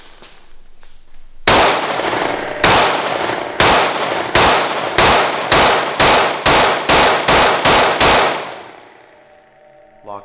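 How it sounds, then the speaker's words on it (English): Pistol fire from a Sig P365 in a Harry's Holsters build: about a dozen loud, sharp shots, slow at first and then in a rapid, even string, each with a ringing tail, and ending when the slide locks open on an empty magazine. "So these will be the first shots through the Harry's Holsters 365."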